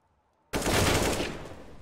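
Gunshots in an esports video game match, a sudden dense burst of rapid fire cutting in after a brief quiet and continuing loudly to the end.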